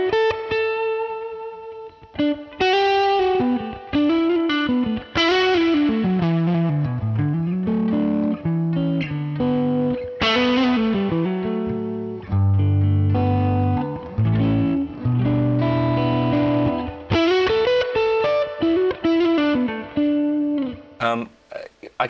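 Gibson ES-335 electric guitar played through a classic distortion pedal plugin, cranked up, giving sustained overdriven chords and single-note lines in a continuous, loud phrase with short pauses between bursts.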